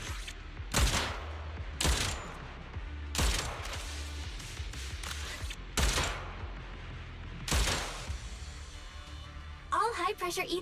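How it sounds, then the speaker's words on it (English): Rapid gunfire rattles in Zenless Zone Zero in several loud, separate bursts of a few seconds each, with quieter game ambience between them and a short burst of chirpy electronic effects at the end. "Hold for rapid fire."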